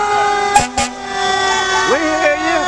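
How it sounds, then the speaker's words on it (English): Anderson County fire truck air horn sounding at a Christmas parade in Anderson, SC: two short loud blasts, then a longer wavering honk, close by over steady background tones. "I need me a loud horn like that."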